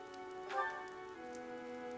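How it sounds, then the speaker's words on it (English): Steady rain falls throughout a battle scene in Fire Emblem: Three Houses, a soft constant patter with faint drops, while a low sustained musical tone hums underneath. "The rain is really coming down now."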